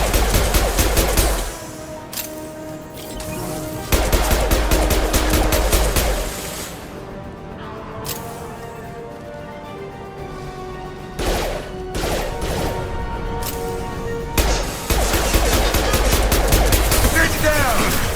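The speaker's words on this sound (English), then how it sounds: "Firing concussive shot." Bursts of automatic gunfire and heavy concussive blasts from Mass Effect 2 combat, with loud rapid volleys at the start, around five seconds and near the end, quieter stretches between, and voices talking over parts of the fight.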